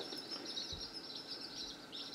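Baby chicks in a brooder chirp faintly and continuously with high, soft peeps, no talk.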